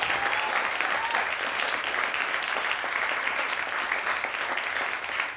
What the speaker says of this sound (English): round of applause for all these guys